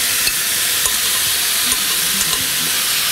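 Shrimp stir-fry in a hot wok with a loud, steady sizzle and hiss, and faint clinks and scrapes sound under the frying.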